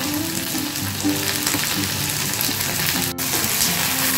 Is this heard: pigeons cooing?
no